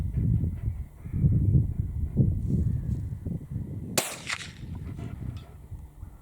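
A single sharp .22 Long Rifle report from RWS R Plus ammunition fired at a long-range steel plate, cracking out loud midway through, with low wind rumble outdoors before and after.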